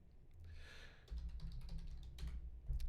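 Keys typed on a computer keyboard, a quick run of soft close taps and clicks over a low background hum.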